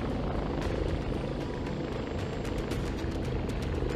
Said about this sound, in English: Now increase the height of the helicopter.